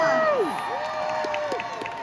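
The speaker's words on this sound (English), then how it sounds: "Let's give him a round of applause." Fans at a comic convention panel cheer and clap for an actor's birthday, a loud, sustained crowd roar with whoops and sliding shouts layered over scattered applause.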